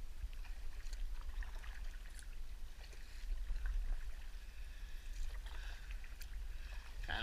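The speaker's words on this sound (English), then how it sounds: "Let's start paddling up river and see where we go." Small paddle boat moving upriver against the current, with steady water swishing and low rushing flow, occasional paddle splashes and drips, close and moderately loud, no voices.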